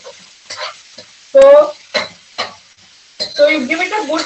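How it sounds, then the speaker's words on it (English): Vegetables cooked with tomato for sambhar sizzle in a pan while being stirred, a soft frying hiss with intermittent scraping of the spoon, heard under someone talking. "you give it a good stir, and my vegetables are sizzling well because they have got the tomato in them"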